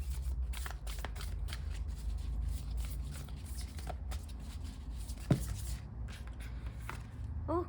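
Tarot cards are shuffled and drawn by hand, a close, continuous papery riffling and sliding with a few sharper flicks and snaps, alone without talk.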